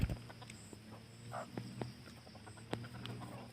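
A fighting rooster clucks in short, scattered bursts over a steady low farmyard hum, with a few sharp clicks and knocks nearby.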